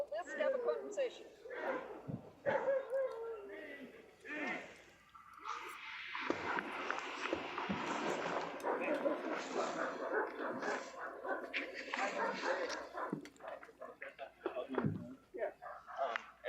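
Dogs inside a residence bark, yip and whimper during a police visit with a search warrant, the excited canine noise mixed with and often under people talking throughout.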